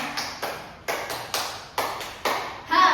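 Children and teacher clap in a classroom clapping game, several loud, crisp claps spaced at a steady rhythm, ending in a brief burst of louder noise.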